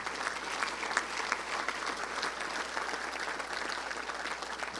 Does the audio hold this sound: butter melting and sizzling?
no